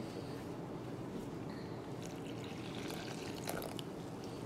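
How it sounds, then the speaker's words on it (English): Water poured into a pot while cooking Guyanese sal sev with chicken foot, a steady broadband pouring and splashing wash that runs throughout, with a few brighter splashes near the end and no talk. "In goes my water."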